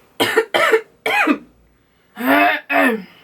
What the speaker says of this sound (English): Excuse me while I cough up a lung.